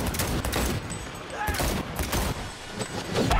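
Rapid bursts of gunfire in a video game boss fight, several sharp shots in quick succession with gaps between them, moderately loud.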